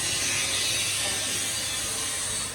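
A mechanic works a ratchet wrench on a cover of a Hino six-wheel truck engine that has a coolant pressure problem. The ratchet clicks rapidly and continuously, close and loud throughout, with no voices.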